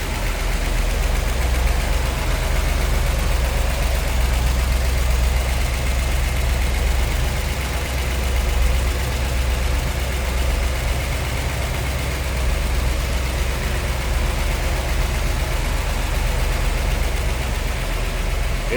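A 1964 Ford Galaxie 500 fastback with a Q-code engine and Holley 4-barrel carburetor idling, a loud, steady, dense rumble that holds unbroken the whole time.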